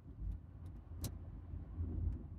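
A car drives along a quiet road, its low engine rumble steady and soft from inside the cabin, with a few faint clicks and no talking.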